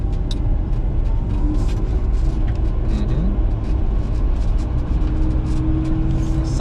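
A drift car's engine drones steadily on the throttle, a loud continuous rumble with slight pitch rises as it revs, close and unbroken throughout.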